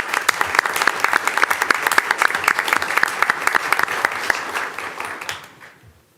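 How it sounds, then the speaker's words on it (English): A school board meeting audience gives a lively round of applause for the Windabara High School team, with crisp overlapping claps that hold steady and then taper off into quiet at the end. "So if you'll give them a big round of applause"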